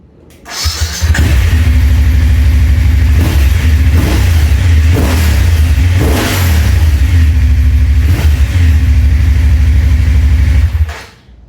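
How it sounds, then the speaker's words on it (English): A BMW F750GS motorcycle engine starts and runs through its stock exhaust, a loud steady rumble with several blips of revving, up close. "I will show you or let you hear the current stock exhaust"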